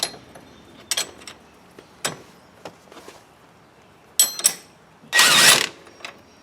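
A 17 mm ratchet wrench clicks in short, uneven bursts while tightening a nut on a Perfex 2-inch lift kit for a 2022 CF Moto 800 Trail, close and clear, ending in a longer rasping run.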